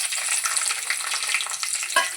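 Hot oil sizzles steadily in a pan while alam pulusu is being prepared, a dense, continuous crackle that stays close and fairly loud throughout, with a brief sharper spatter near the end and no talking.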